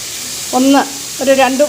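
Chopped carrots and beans cooking in a pan for a veg burger, a soft steady sizzle underneath two short voiced sounds.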